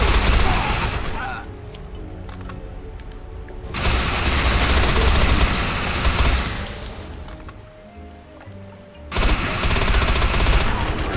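Bursts of rapid automatic gunfire in the video game Defiance, loud and dense in several long stretches with brief quieter gaps between volleys, and a voice talking at points.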